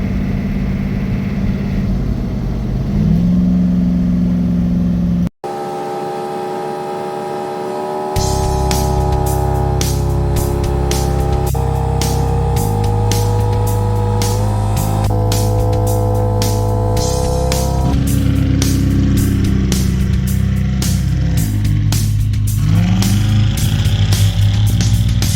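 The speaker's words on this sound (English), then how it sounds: "So let's go for a drive." A vehicle with a winch aboard drives along snowy roads, its engine droning loudly and steadily up close, shifting pitch as it speeds up and changes gear, with a brief gap near the start.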